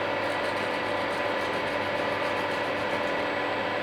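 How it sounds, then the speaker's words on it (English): Plastic is being ground off with a small rotary tool, a steady buzzing whine over a constant hum that holds the same pitch throughout. "this one is definitely grinding off plastic"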